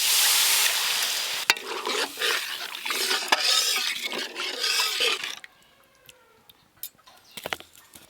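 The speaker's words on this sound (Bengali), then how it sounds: "খুব ভালো করে দো পেঁয়াজের মশলা কষানো হয়ে গেছে। এবার জল দিয়ে দেব।" Water hits onion masala frying for a village-style Katla fish dopiaza, a loud hissing sizzle and bubbling with stirring scrapes that abruptly dies down to faint bubbling and a few clinks near the end.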